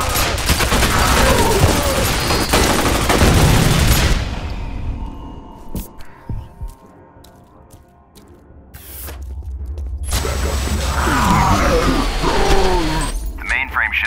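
Turret gunfire in the F.E.A.R. Perseus Mandate video game, loud and sustained, breaking off into a quieter stretch of scattered impacts before heavy firing resumes, with voices talking through it.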